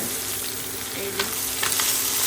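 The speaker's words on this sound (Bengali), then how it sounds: "এইভাবেই এটা ধীরে ধীরে অল্প জালে ভাজা হতে থাকবে" Cauliflower frying in a pan over low heat: a continuous crackling sizzle with a couple of soft stirring scrapes, close by and with no talking.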